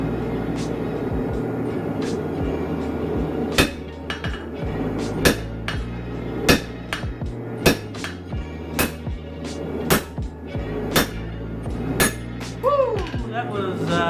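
Hammer blows ring out sharply on an anvil as heated steel is forged into a paring knife, the strikes coming in irregular bursts with metallic clinks between them.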